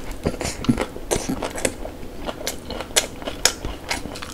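Someone bites into and chews a Mom's Touch Thigh Burger chicken burger with a crispy fried coating, producing close, crunchy crackling bites and chewing in irregular bursts throughout.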